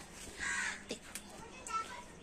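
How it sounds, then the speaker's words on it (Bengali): A crow caws a few times at moderate distance amid outdoor ambience, with children's voices and chatter in the background. "বিশ্ববিখ্যাত কাক ওখানে ডাকছে তাকে দেখুন"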